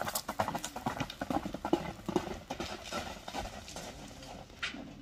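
Horse hooves clip-clop in a quick, even rhythm on hard ground, close and clear, with the steps easing toward the end and faint activity in the background.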